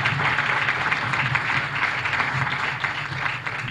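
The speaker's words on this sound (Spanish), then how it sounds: "yo también voy a pedir un aplauso" Audience applause at a political presentation in a hall, a steady dense wash of clapping that holds at an even level throughout, with a faint low hum beneath and no clear speech.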